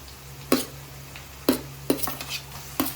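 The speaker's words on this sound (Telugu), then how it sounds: "చక్కగా ఎర్రగా వేగినాయి కదా ఇప్పుడు మనం దోసకాయ వేసుకుందాం" Cucumber goes into fried dry fish in a frying pan with a low steady sizzle, punctuated by several sharp metallic clacks of a utensil stirring against the pan.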